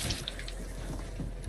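Water splashing and rushing steadily at a waterfall in the Fortnite video game, a continuous wash of liquid noise that fills the short moment without pause.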